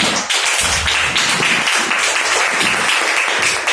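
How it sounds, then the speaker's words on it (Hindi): A church congregation at a Sunday worship service in New Delhi applauding together, a dense, sustained wash of many hands clapping that fills the room, loud and steady from start to finish. "इस समय हम ताली बजाएंगे"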